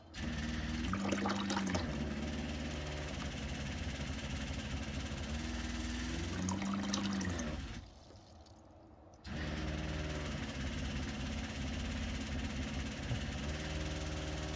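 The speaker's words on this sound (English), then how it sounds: "pump is running nicely now" A steady mechanical hum of a small Shurflo RV water pump runs continuously, briefly cutting out for about a second before resuming at the same even drone.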